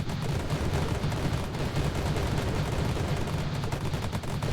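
Kalashnikov rifle bursts and grenade blasts in a video game, rapid continuous automatic fire rattling without pause, loud and close with no talk.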